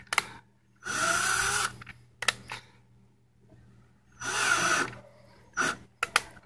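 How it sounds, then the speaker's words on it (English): A power drill whirs in several separate bursts while drilling a hollow Dodge Charger bumper, two longer runs and a few short triggers, close up with quiet gaps between. "I just kind of realized while drilling this that this bumper seems pretty hollow."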